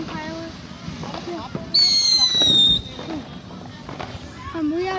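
Fourth of July fireworks going off in a series of close pops and crackles with a brief whistling streak, while people talk over them.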